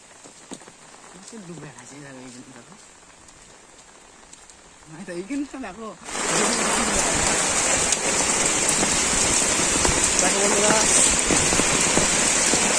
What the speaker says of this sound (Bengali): আবার প্রচন্ড বৃষ্টি নেমে গেছে